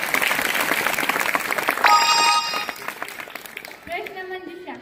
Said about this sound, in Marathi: कुठे आहे टाळ्यांचा आवाज?